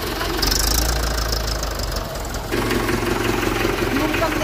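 A Mahindra 575 tractor engine idles and rumbles nearby with a low, steady knocking drone that shifts slightly midway, running continuously throughout.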